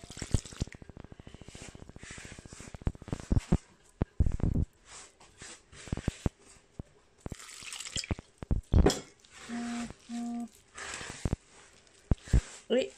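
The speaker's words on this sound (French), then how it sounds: "Et je vais rajouter de l'eau tiède petit à petit jusqu'à former une pâte, une boule." Lukewarm water is added bit by bit to a dough in a home kitchen, giving a series of light drips, splashes and soft squishy clicks in uneven bursts, close up and fairly quiet.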